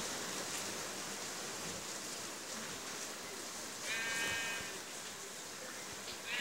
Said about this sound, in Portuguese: aqui tem mais ovelha, eu vou matar ela aqui